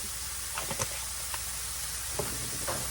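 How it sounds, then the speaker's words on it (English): Ground beef seasoned with garlic and onion powder sears in a skillet, a constant close sizzle and hiss with a few soft scraping clicks on top, no talk. "that meat's sitting there on that skillet and getting seared on the bottom"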